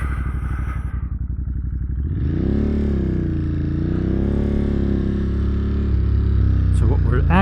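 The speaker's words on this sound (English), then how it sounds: "going for a quick spin on the 2022 Monster Plus" A 2022 Monster Plus motorcycle engine revs up and holds a steady loud drone as the bike rides along, with rising and falling pitch and a brief clatter at the end.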